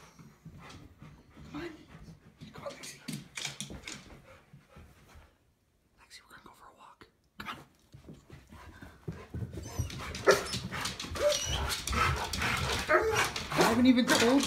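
An excited dog pants and whimpers indoors before a walk, yips and soft whines scattered through the clip under frequent human talk, with a brief quiet gap near the middle and busier, louder activity toward the end.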